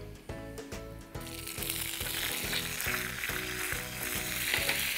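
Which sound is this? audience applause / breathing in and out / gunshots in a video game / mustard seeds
mustard seeds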